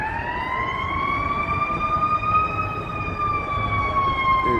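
An ambulance siren on Wacker Drive in Chicago, a sustained wailing tone that rises and falls slowly, fairly loud and close, over a rumbling bed of city traffic.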